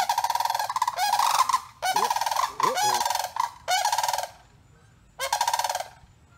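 A goose with a limp honks in loud, harsh repeated bursts close by, several rapid volleys separated by brief pauses, with no talking.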